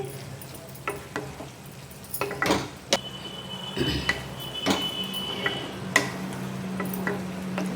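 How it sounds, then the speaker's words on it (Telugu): A spoon stirs chili powder into a tomato and dried shrimp curry in a pan, with irregular metallic clinks and scrapes over a soft background sizzle. "వన్ టీ స్పూన్ కారం వేసుకొని ఇలా మిక్స్ చేసుకోవాలి"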